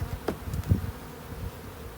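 Honeybees drone in an opened hive during a beekeeping demonstration for schoolchildren, a close, continuous low buzz with a few soft bumps and knocks from frames being handled.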